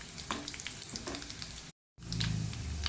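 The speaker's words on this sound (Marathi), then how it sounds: "जे आपण वांगे जे भरलेले आहेत ते या तेलात टाकून" Stuffed eggplants fry in oil with garlic and curry leaves, a close, crackling sizzle interrupted by a short dead gap before it picks up again, slightly louder, with no talking.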